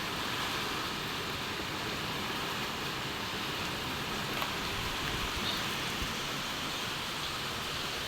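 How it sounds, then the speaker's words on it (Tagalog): Heavy rain from Typhoon Kristen pours down in a dense, steady hiss that fills the whole stretch without a break and with no voices. "Nakakatakot po talaga ang ulan."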